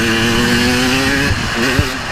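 Dirt bike engine revving hard on a trail during a 2015 WNYOA off-road race, a loud sustained buzzing whine close up, with a voice talking over it.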